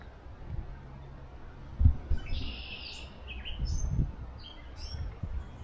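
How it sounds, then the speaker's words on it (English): Gray catbird calling outdoors in a park, a few short chirps and mewing notes at moderate distance over low background rumble. "The noise, the chirps you're hearing right down here. That's the catbird."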